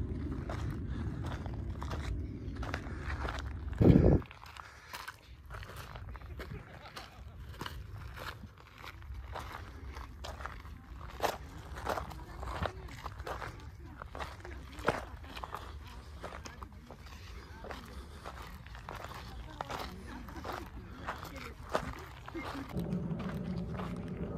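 Footsteps crunch on a quiet trail in the Aravalli Hills, a steady walking rhythm of close, gritty steps under a low background hush, with one louder thump early on.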